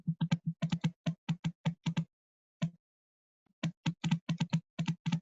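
Typing on a computer keyboard, close and fairly quiet: rapid clusters of crisp key clicks with a brief pause in the middle before a fresh burst of keystrokes.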